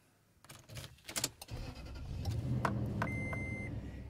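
A car engine cranks and starts, then settles into a steady idle that grows slightly louder, with a few clicks and a brief beep before the start while recharging the vehicle's air conditioning.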